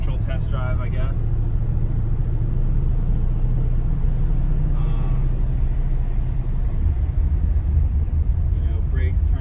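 A 1974 Plymouth Cuda with a 360 engine cruises through a residential neighborhood, its low, steady engine rumble and road noise filling the cabin from start to finish while someone talks over it.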